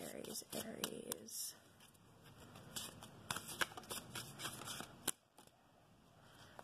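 Tarot cards are shuffled close by in a quiet room, with soft riffling, papery slaps and flicks. Near the start a voice talks briefly, then the card handling continues alone with irregular taps and one sharper snap.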